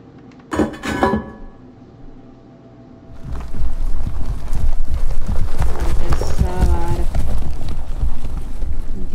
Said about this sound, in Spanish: se oye alguien galopando